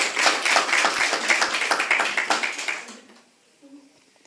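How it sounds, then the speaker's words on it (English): Audience applause follows a Vedic Sanskrit recitation at a devotional lecture: a burst of many hands clapping for about three seconds, then fading quickly to near silence. "Round of applause."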